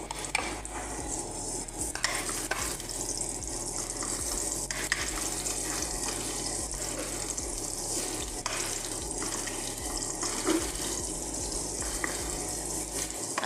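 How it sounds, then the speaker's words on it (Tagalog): Leftover chicken sautéing with oil and onion in a pan, a steady sizzle with stirring and utensil clatter running throughout, close and fairly loud, with no talking. "igisa natin ang ating chicken. Maglagay tayo ng oil. Ang ating onion."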